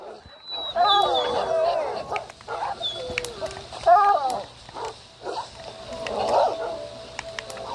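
Dogs barking in the blocky survival game Minecraft Bedrock on a multiplayer realm, several short yips and barks in bursts over game ambience, with a person talking intermittently.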